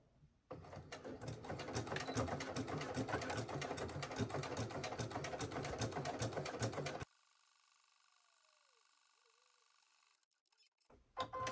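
A serger overlocker sewing machine runs loudly with a fast, steady mechanical whir for about six seconds, then stops abruptly, leaving quiet room tone before a brief clunk at the end.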